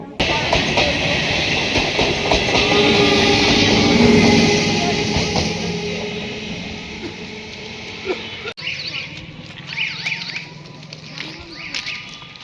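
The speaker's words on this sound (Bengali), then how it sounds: "আমাদেরও ট্রেন চলে এলো আর আমরাও ট্রেনে উঠে" A local train rumbles loudly past at a station near Andul, its steady roar easing off after several seconds; quieter clatter and faint voices follow once it passes.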